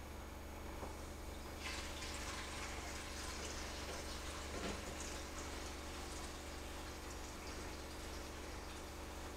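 Water from a kitchen tap pours steadily into a pot while a spaghetti bolognese is being made, a faint, continuous rushing and splashing that runs alone for nearly ten seconds.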